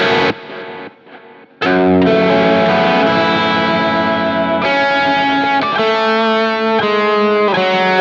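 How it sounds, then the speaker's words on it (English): A sustained electric guitar through a Neural DSP Quad Cortex with an octaver feeding a shimmer reverb, the wash ringing out loudly, chords changing every couple of seconds after a brief sparse opening. "that would feed the shimmer reverb, which we hear in the verse"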